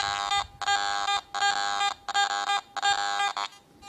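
Garrett AT Gold metal detector sounding over iron and a gold specimen: a run of five loud, buzzy electronic tones, each about half a second long, with brief gaps between them.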